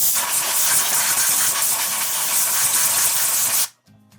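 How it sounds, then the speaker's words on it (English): Compressed air from an air gun blasts steadily over a chainsaw carburetor, a loud continuous hiss lasting several seconds up close before cutting off abruptly into near silence. "a little bit of a blow with the air gun."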